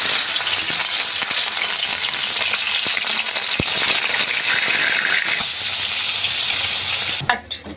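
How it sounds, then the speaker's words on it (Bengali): Fish coated in salt and turmeric sizzle and spit in hot white oil in a black iron wok, a steady dense frying hiss lasting throughout with small pops, close and loud, ending with a brief clatter. "মাছগুলো লবণ হলুদ মাখিয়ে নিয়েছি, নিয়ে ভেজে নেব।"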